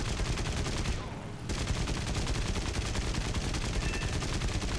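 Rapid, continuous aircraft machine-gun fire from a Japanese Ki-61-Ia fighter in War Thunder, a loud rattling stream of shots with a brief pause near the start before the burst resumes, dense and unbroken to the end.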